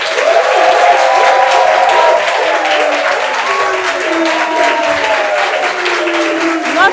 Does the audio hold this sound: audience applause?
yes